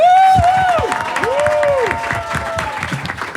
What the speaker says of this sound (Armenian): հաջորդ այս բեմում Արմեն բարձր ծափարենք